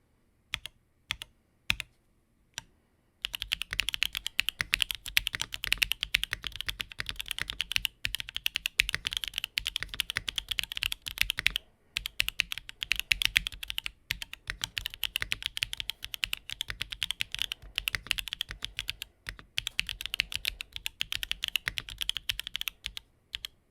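Rapid, continuous clacking of a MODE Sonnet mechanical keyboard with Obscura switches and keycaps, close and crisp, after a few isolated key taps at the start, with a brief pause midway.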